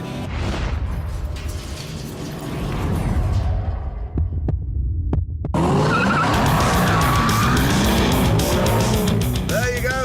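A 5.4 litre V8 car and a 6.5 litre V12 car roar and rev hard while racing, with skidding tyre noise, loud and continuous, with a voice briefly audible under the din.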